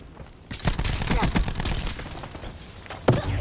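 Gunfire during a Call of Duty Black Ops 4 team deathmatch, a loud, dense crackle of rapid shots continuing steadily, with a sharper crack near the end.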